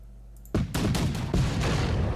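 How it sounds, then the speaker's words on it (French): Cannon fire in the Napoleonic strategy game Victory and Glory 1800, a sudden loud booming volley of several overlapping blasts rumbling on without pause. "j'ai des canons."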